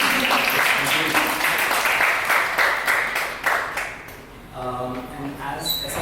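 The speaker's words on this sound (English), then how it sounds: "Maybe a round of applause first." Audience applause at an education-for-sustainable-development talk event, a crowd clapping steadily for a few seconds before fading as a voice begins speaking.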